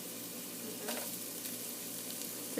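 Chopped onions sizzle steadily in olive oil in a hot pan, a dense, even crackle with a few brighter pops, close and moderately loud with no talking.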